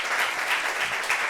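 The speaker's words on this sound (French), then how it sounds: "Est-ce qu'on peut applaudir pour ce père" Members of an audience at a gathering applaud a father, a brief, dense burst of steady clapping that fills the room without any talk.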